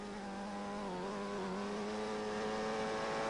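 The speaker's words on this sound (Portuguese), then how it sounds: "O motor dele não está falando tão bem quanto da primeira bateria." Touring car race engine droning steadily at high revs, a continuous strained tone holding pitch with slight wavering, heard from onboard and fairly faint.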